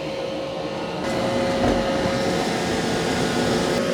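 An iRobot Roomba j6+ robot vacuum runs close by with a steady, loud motor whir and brush hum, rising slightly in intensity after the first second and continuing unbroken without talk.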